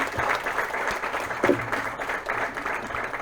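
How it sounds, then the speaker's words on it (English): An audience at an alumni entrepreneurs' panel discussion gives a brief round of applause, a dense, moderately loud patter of many hands clapping together. "can we have a round of applause for all the answers?"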